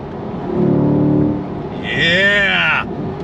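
A 2024 Chevy Corvette E-Ray downshifting on throttle, a sustained engine note followed by a sharp rise in revs and a rising whine, with a voice talking over it.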